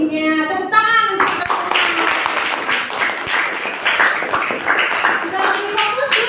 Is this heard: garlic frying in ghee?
no